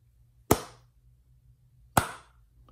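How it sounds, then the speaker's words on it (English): Two sharp, single hand claps about one and a half seconds apart ring out close and loud in a quiet room, each with a short decaying tail, used to trigger a phone timer. "So there it took a hand clap to start it."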